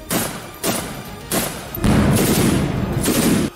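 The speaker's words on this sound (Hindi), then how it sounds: "रूस के कुछ सिपाहियों ने यूक्रेन के ठिकानों पर दनादन गोलियां भी बरसाईं।" Four heavy bursts of gunfire from Russian soldiers firing on Ukrainian positions, each a sharp onset followed by a dense, rumbling stretch of rapid shots, loud and close.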